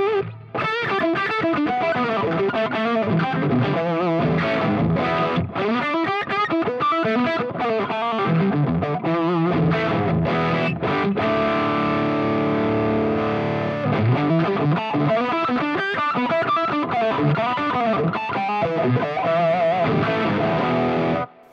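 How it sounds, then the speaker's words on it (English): A crunchy, distorted electric guitar plays loud continuous chords and riffs through a Marshall YJM100 Yngwie Malmsteen signature tube amp, with gritty sustain and brief pauses between phrases. "It's still this special kind of crunch, which you don't get so easy on every kind of amp."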